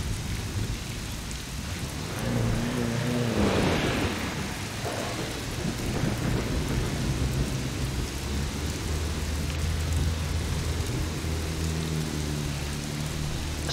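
Rain and thunder in Assetto Corsa, a steady wash of rainfall on surfaces with a deep thunder rumble swelling near the start and a low engine hum underneath.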